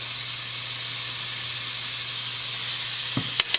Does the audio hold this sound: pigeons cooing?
no